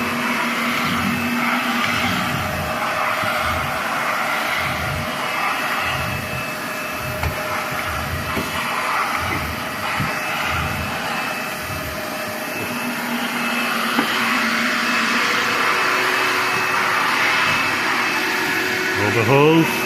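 A Shop-Vac central vacuum runs steadily close by with a loud, continuous whooshing roar of rushing airflow and a slight pulsing flutter beneath it.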